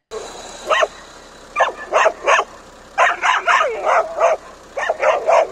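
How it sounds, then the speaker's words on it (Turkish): Repeated barks and yelps from a dog trapped in a sewage pool come in short clusters of bursts, fairly close, over a steady background hiss. "Pis su havuzundan kurtulmaya çalışan köpeğin sesini duyan vatandaşlar"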